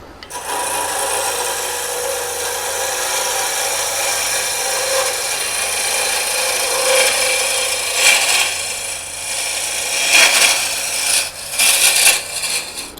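A parting tool cuts into spinning mesquite wood on a lathe with a loud, continuous scraping rasp. Brief sharper bursts of chatter come near the end, and no one speaks.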